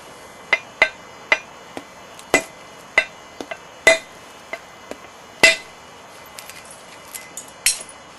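Sharp percussive knapping strikes knock flakes off a large stone blade being shaped from a 300-pound rock, about fifteen irregular clicks and cracks over quiet background, close and crisp.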